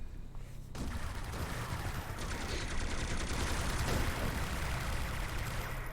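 Enemies shooting in the video game City of Heroes: after a brief quiet start, a steady, dense stream of rapid gunfire rattles on continuously at moderate loudness.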